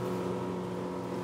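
Motorboat engine droning steadily at close range, a constant tonal hum with no talking over it.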